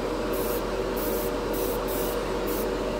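A spray can of Createx Wicked Colors Quick Silver chrome paint hisses continuously at close range onto a roughed-up plastic spoon for a few seconds, a steady loud airy spray with no pauses.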